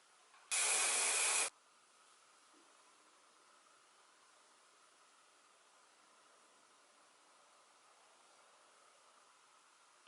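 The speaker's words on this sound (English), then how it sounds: "just gonna go in with a little hairspray." One short, loud burst of hairspray is aimed at hair from close range. It lasts about a second, then fades to quiet room hiss.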